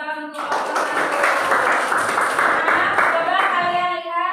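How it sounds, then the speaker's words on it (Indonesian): A classroom of students clapping together for a presenting group, a dense burst of hand claps close by with voices and cheering mixed through it, tapering off at the end. "kasih tepuk tangan untuk kelompok 1"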